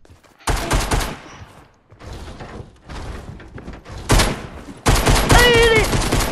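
Gunfire in Fortnite comes in several loud, close bursts separated by short gaps. The last and strongest volley near the end carries a ringing, whistling tail.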